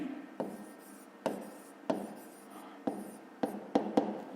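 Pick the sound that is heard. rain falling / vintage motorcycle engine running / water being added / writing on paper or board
writing on paper or board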